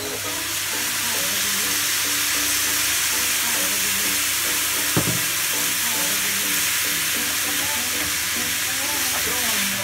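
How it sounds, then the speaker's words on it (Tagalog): White wine poured into rice sizzling in a pan for a zucchini and seafood risotto; a loud, dense, continuous frying hiss fills the whole stretch, with one brief knock midway. "Tapos ngayon, lagyan na natin ng white wine."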